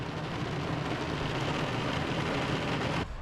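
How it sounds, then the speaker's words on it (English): Steady rain falling outdoors, a dense even hiss close by that continues unbroken and then drops off abruptly at the end. "It's raining again."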